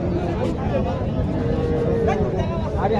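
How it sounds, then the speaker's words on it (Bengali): A Gir and Sahiwal cross heifer calf at a busy cattle market in Naogaon gives a low moo amid loud crowd chatter and market noise, with voices talking close by. "এটা গিরের ক্রস গির এবং শাহিওয়ালের বকনা বাছুর"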